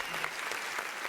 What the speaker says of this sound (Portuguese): Vamos dar uma salva de palmas antes de entrar no quadro, porque ela merece.